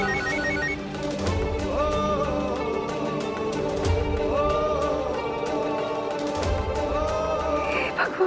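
A mobile phone rings with a repeating electronic melody, a few bars cycling steadily and clearly in a quiet room with no talking.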